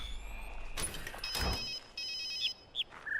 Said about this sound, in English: How the hell is there a phone ringing?